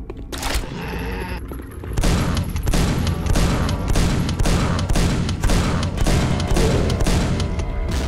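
Rapid shotgun blasts and combat noise from the video game Quake fire in a dense, loud, continuous barrage, with repeated sharp bursts layered over a busy rumbling background.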